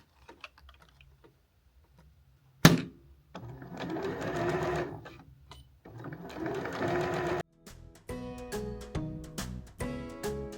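A domestic sewing machine stitches a seam along the edge of a small tote bag made from 10-inch fabric squares, running in two loud sustained bursts after a sharp click, then a rhythmic ticking clatter near the end.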